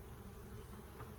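Honey bees hum softly inside a farm beehive, a faint continuous buzz with no other sounds.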